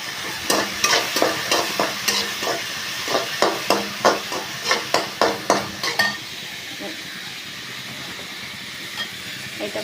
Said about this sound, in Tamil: தக்காளி ஒரு மூணு தக்காளி போட்டுருக்கேன்